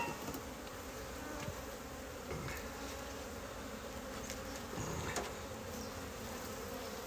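Honeybees buzz steadily throughout a February hive inspection after a puff of smoke, a dense, continuous drone close to the open hive with a few brief sharper notes and no talk.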